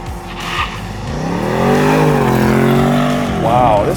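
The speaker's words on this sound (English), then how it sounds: "So, Sport Plus, traction control off, move it over into manual, foot to the ground, launch control active, and go." A 2023 BMW M850i takes off under launch control in Sport Plus with traction control off, its engine rising in a loud climbing roar through the gears, with a quick shift near the end and a voice speaking over it.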